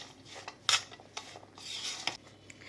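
Vegetables being tossed and stirred with masala in a bowl for a crispy cheese bowl dish, giving soft scraping and clinking of a utensil against the bowl in short irregular strokes, close and fairly quiet.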